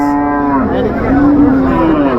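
Cattle lowing at a busy rural cow market, a loud close moo with a steady harmonic pitch that slides downward and rises again, sustained across the whole moment over a murmuring crowd background.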